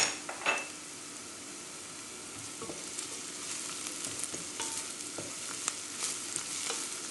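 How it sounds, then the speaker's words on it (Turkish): Bulgur and garlic sizzle softly in a pan while being stirred, with occasional scrapes and clinks of a utensil against the cookware over a steady, low frying hiss. "Sarımsağın da kokusu çıkana kadar kavuruyorum."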